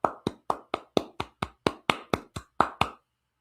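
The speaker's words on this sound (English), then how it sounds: "Golf clap for Anthony." A golf clap: about a dozen light, evenly spaced hand claps at a steady, polite rhythm, close and crisp, stopping abruptly after about three seconds.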